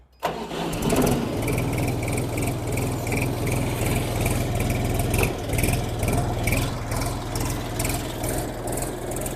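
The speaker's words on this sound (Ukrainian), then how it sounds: "Ще відразу хочу вам завести трактор, і ви почуєте, як працює двигун КМ 385." A Foton Lovol 244 tractor's KM385 diesel engine cranks and catches, then settles into a loud, steady rumbling idle close by with a rhythmic mechanical clatter.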